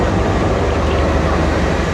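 A train rumbles steadily and loudly at a railway station in Sri Lanka, a dense continuous roar with no voices over it.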